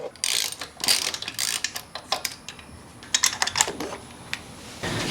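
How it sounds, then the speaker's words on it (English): Fairing button bolts coming out of a Yamaha FZ6R motorcycle, heard as a close series of quick ratcheting clicks and small metallic rattles in irregular bursts. "So start by removing these two lower fairing button bolts."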